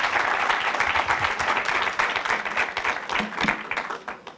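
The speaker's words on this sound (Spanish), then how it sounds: "Un aplauso, por favor, para el senador que nos da esa oportunidad el día de hoy" Audience applause fills a hall in the Senate of the Republic at a book presentation, a steady, dense clapping from many hands that holds throughout at a fairly loud level.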